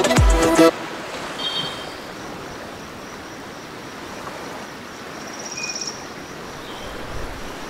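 Jugla waterfall near Lawari road in Upper Dir flows as a steady, even rush of falling water heard from some distance, after a brief louder knock at the start, with faint chirps over it.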